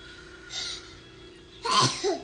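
A single sneeze during a breathing exercise class. Quiet room tone comes first, then a soft breathy burst, then a sharp, loud sneeze with a short trailing catch.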